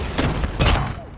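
A sentry gun firing in the mobile shooter Call of Duty Mobile, two heavy bursts of loud, rapid gunfire with booming low thumps, close and dense throughout the brief moment.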